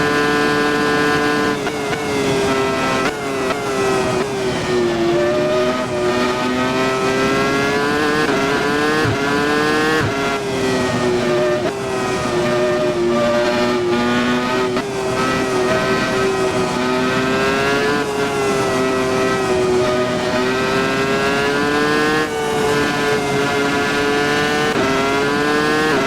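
Formula One car engine in the Assetto Corsa racing game at Suzuka, a loud, continuous high-pitched engine whine rising and falling with gear shifts and throttle throughout, with no talk over it.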